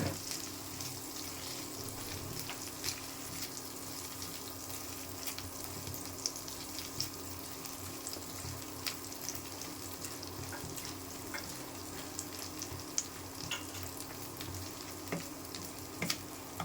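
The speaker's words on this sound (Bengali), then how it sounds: "মাছ, পেঁয়াজ, রসুন, আদা ভাজা ভাজা হয়ে গেছে।" Fish, onion, garlic and ginger fry together in a pan, a soft steady sizzle with occasional faint spits, quiet and even throughout with a low hum beneath and no talking.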